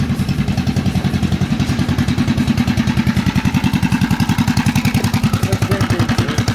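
A motorcycle engine runs close by with its choke in use and no kill switch fitted, giving a loud, steady, rapid throbbing idle that pulses evenly throughout with no talking.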